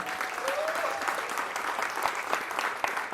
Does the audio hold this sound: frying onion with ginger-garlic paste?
no